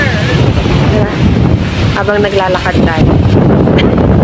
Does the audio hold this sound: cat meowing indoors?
no